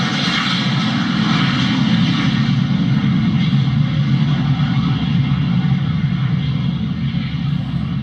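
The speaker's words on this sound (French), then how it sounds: "l'avion a décollé" Steady, loud roar of a fixed-wing airplane's engines during takeoff, a dense continuous rumble holding level throughout with no voices over it.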